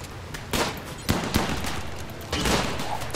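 Colonists firing weapons in the space colony survival game Rimworld, a dense rapid fusillade of gunshots with sharp bursts over a continuous loud rattle of fire.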